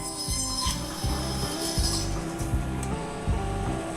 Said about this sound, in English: It's got two saw blades. You'll see the saw blades coming down.